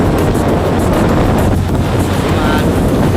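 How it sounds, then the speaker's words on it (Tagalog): Rough sea chop and strong wind buffet a small boat on a trip off Palawan, a loud continuous roar of gusts and churning water across the whole stretch with no talk. "Then medyo maalon dito guys."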